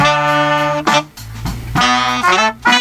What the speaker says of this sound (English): The horns sound like this.